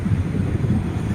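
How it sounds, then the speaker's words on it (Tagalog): Strong wind buffets an outdoor microphone during a pigeon race release, a steady low rumbling roar with gusty swells and no voices. "Napakalakas ng hangin."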